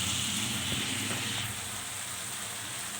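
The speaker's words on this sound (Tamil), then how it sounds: "மினிட்ஸ் ஆன பிறகு இப்போ நம்ம வதக்கிக்கலாம்" Brinjal sautéing in a pan, a faint, soft sizzling hiss with a couple of light scrapes early on, steady and quiet with no talking.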